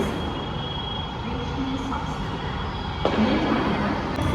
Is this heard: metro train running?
yes